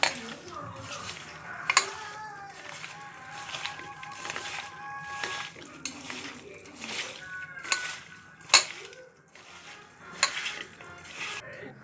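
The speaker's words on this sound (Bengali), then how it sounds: "এবার এটাকে ভালো করে মেখে ভালো করে মাখবো" Mutton being mixed with a little oil in a cooking pot, with intermittent scraping and clinking of a utensil against metal, light and irregular, with faint sizzling in the background.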